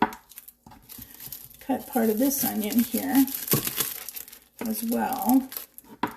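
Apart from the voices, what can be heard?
knife cutting an onion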